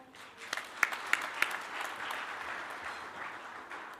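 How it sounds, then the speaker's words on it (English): A ceremony audience at a university vice-chancellor installation applauds after a choir performance, a few sharp claps at first, then a soft, distant wash of clapping that thins out quietly. "Ladies and gentlemen, once more, a round of applause."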